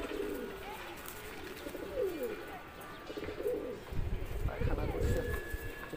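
A red-patti blood-line fancy pigeon coos in low, wavering phrases at close range, repeated several times, with a voice talking over it and some handling and rustling noise.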